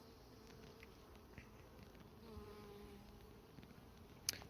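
Honeybees buzzing inside an open hive during an inspection, a faint, continuous droning hum that holds steady with only small swells, no voices over it.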